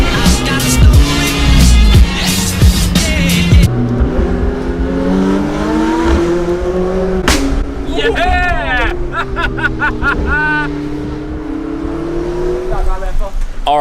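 A supercar engine revs on a Hong Kong street, pitch rising and falling through repeated loud blips while people talk and chatter around it close by.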